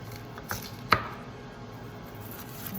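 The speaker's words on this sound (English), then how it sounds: "chop them up like this" A knife strikes a cutting board while chopping red onion, with two sharp, close knocks over a low background hum.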